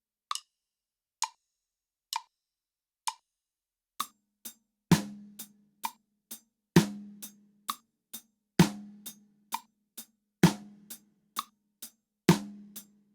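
Drum kit groove with closed hi-hat eighth notes and snare hits on beats 2 and 4, no bass drum; a few lone hi-hat ticks lead in before the steady, close, crisp pattern begins.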